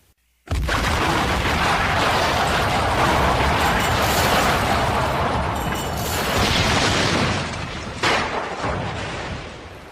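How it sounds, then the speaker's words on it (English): A sustained, roaring explosion sound effect erupts after a brief quiet start, a dense wall of blast and rumble that stays loud for several seconds before slowly tapering, with a sharp crack near the end. "The explosion came as a complete surprise."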